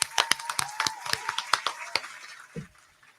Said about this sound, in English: we're going to clap for that too.